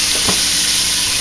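Chopped onion, celery and carrot sizzle steadily in olive oil in a pan as a beef noodle soup is started. The frying hiss is continuous, close and fairly loud, with a brief stirring scrape early on.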